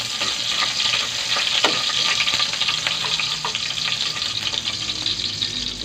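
Garlic frying in a pan as the first step of chop suey, a steady loud sizzle with stirring scrapes throughout, close and continuous, no talking.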